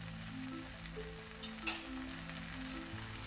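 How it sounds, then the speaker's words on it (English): Cauliflower tikka masala frying in a pan as chili powder and salt are stirred in, with a soft steady sizzle, occasional scraping of the spoon and one brief sharp clink. "mix it properly"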